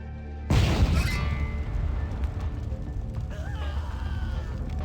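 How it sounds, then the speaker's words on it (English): A sudden loud explosion in the video game Vampire the Masquerade Bloodlines, a sharp booming blast with shattering debris that decays into a long rumbling tail with crackling fragments. "Explosions."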